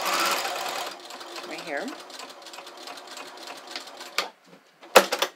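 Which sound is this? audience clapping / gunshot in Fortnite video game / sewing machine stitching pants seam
sewing machine stitching pants seam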